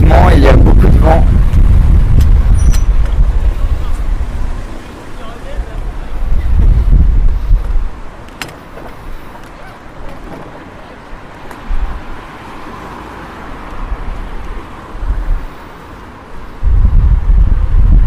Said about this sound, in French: Attention, je suis à un croisement et il y a beaucoup de vent.